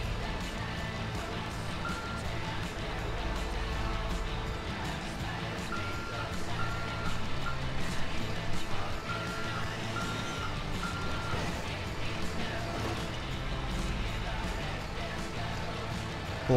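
A truck reverses in GTA V with a steady, repeating backup beeper, medium-near, over engine rumble and layered game noise, while someone talks over it.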